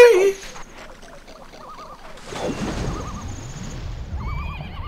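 A horse in The Legend of Zelda: Majora's Mask gives a short, loud neigh right at the start. It is followed by quieter game sound effects and music-like warbles over a low, steady background.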